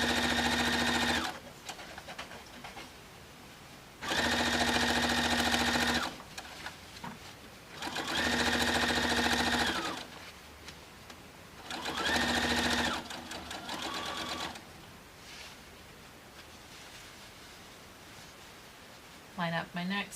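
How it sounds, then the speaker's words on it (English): A sewing machine stitches around a quilted tote bag made from a placemat kit, loud whirring runs starting and stopping in four bursts with quieter handling gaps between them. "I'm going to hold those with my fingers while I go ahead and sew this all the way around."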